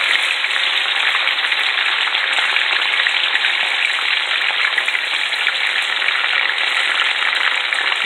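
French fries are deep-frying on a stovetop, giving a loud, steady broadband sizzle that holds unbroken from start to finish with no voices.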